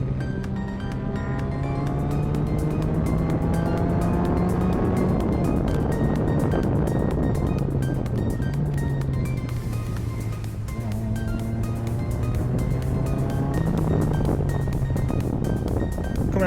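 A Formula single-seater race car laps Silverstone with a high, buzzing engine note that rises and falls through gear changes and corners, loud and steady from onboard.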